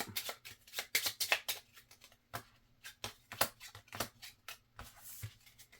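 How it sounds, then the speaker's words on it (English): Playing cards are shuffled in quick, riffling bursts, repeated several times with short pauses, faint and close with no talking. "then we draw the remaining cards and shuffle up"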